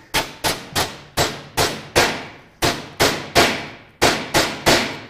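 A hammer strikes a bent brake dust shield on a 2014 Chevy, about fifteen sharp, close, loud blows landing in quick rhythmic bursts with brief pauses between groups.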